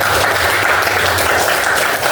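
A classroom full of students claps together in dense, steady applause, loud and close for the whole moment.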